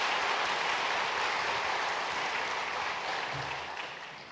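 A church congregation gives warm, sustained applause to welcome a young newcomer at a Sunday service, a dense even clapping that stays loud before tapering slightly at the end.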